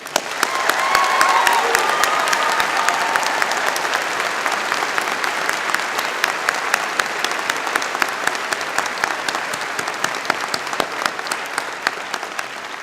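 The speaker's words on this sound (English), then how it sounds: "Please join me now in acknowledging them with a round of applause." Sustained applause from a large audience, steady clapping that swells early then continues evenly throughout, with faint crowd murmur underneath.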